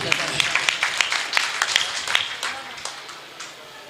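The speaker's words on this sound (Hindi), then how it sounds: "एक बार जोरदार तालियां बजाकर मुझे इजाज़त दीजिए।" Scattered hand claps ring out from an audience at an aqiqah ceremony poetry gathering, sharp and uneven over a steady crowd murmur, with a voice talking through it.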